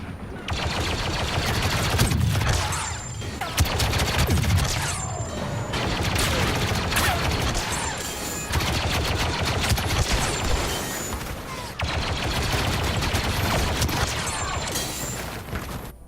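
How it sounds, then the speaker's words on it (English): Rapid, continuous blaster fire from a Stormtrooper weapon in the Star Wars Battlefront 2 video game, dense volleys of loud shots sustained throughout with brief pauses, backed by battle clatter and impacts. "this is the classic Stormtrooper blaster from Star Wars Episode 2"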